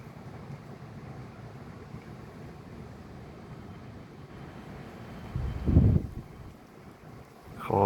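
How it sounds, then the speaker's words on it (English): Severe gale-force wind of around 40 to 50 mph blows through a town, a low rushing roar with heavy microphone buffeting that swells into a louder gust near the end. "got wind blowing right now"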